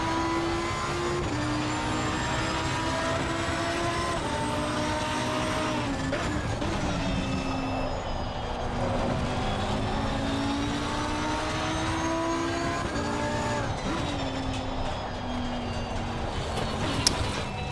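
Race cars in a racing video game at the Zolder circuit, with a cockpit view: a sustained, loud engine drone rises and falls through gear changes, rival cars audible alongside.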